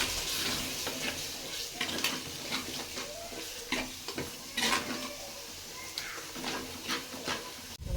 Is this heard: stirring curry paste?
yes